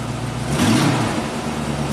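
A 2002 GMC W4500 dump truck's V8 engine runs at idle, a steady low rumble with a brief swell in level near the middle before settling back to an even drone, heard alone without talk.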